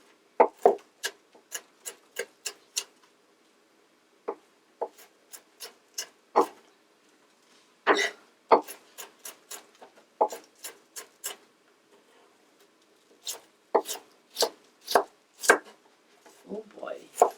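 A sharp knife chopping onion on a cutting board, crisp close taps in quick bursts and scattered single strokes separated by short pauses, with a quiet room behind.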